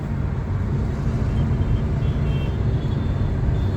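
Road traffic in Agra city, a steady, dense rumble of cars and trucks heard close and loud throughout, with no voices.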